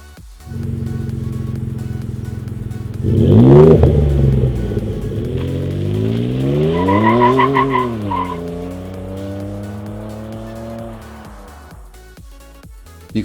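Ford F150 with the 3.5L EcoBoost and an MBRP 4-inch single exit exhaust pulls hard with a loud, throaty roar and a squeal of tires, then rises and fades away.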